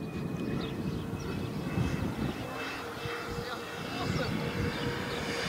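An FMS TigerCat radio-controlled model airplane runs its electric motor in a steady, continuous whine and drone that stays loud and near throughout, with no pauses.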